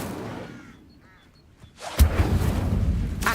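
Incendio, the fire spell in Hogwarts Legacy: after a quiet stretch with faint tones, a sudden loud whooshing blast of flame erupts and roars on to the end.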